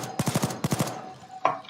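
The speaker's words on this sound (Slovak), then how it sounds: "A tu stačí zase len pár razy streliť do zamku." In the video game Payday 2, gunfire hits a door lock: two quick bursts of four or five sharp, close shots, then a pause and one more loud hit.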